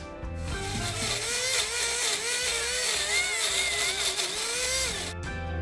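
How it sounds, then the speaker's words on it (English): Countertop blender whirring through candlenuts, ginger and a splash of water, a steady close motor drone with a wavering pitch that starts abruptly and cuts off near the end, no voices. "Let's blend it."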